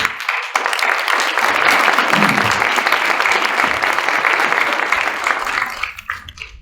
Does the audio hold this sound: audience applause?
yes